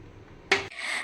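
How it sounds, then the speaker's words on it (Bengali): A lid scraping and settling over a pot of potato and egg curry, a brief rubbing slide followed by a sharp knock as it comes to rest, close and alone. "তারপর এটা ঢেকে দিতে হবে।"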